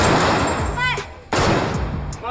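Several loud, sharp gunshots crack out in quick succession during zeroing fire at a military training shooting range, with voices heard between and under the shots.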